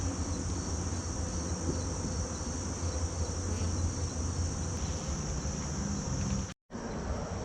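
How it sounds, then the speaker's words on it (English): A dense, steady buzz from a giant cluster of honey bees fills the air without pause, loud and close, cutting out briefly near the end before resuming. "just a giant cluster of bees"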